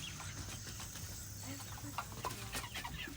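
On a homestead at evening chores, a farm chicken clucks in short, soft bursts close by. Low engine or machinery rumble runs underneath, along with faint handling noises.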